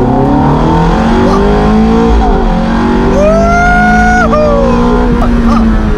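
Michael Schumacher's Ferrari race car accelerates hard on track, its engine loud and close with rising, shifting pitch through gear changes, over a constant roar.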